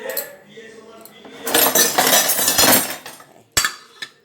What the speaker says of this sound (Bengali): ঢাকনাটা দিয়ে দিই।